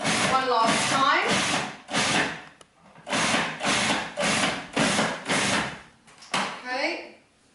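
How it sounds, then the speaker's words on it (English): A food processor pulses wild garlic pesto in about eight short, loud whirring bursts separated by brief pauses, each burst whining briefly before cutting off. "just put it on the pulse mode. Pulse it all together one last time."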